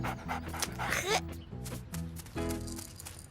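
Cartoon dog panting in rapid, steady rhythmic breaths, close and clear, with a brief whimpering note partway through.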